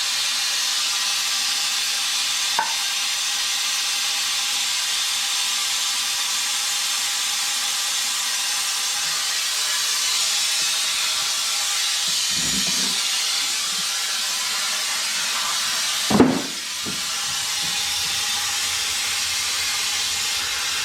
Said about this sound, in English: Right now you got your vacuum going, and then to actually turn it on, you just hit the valve.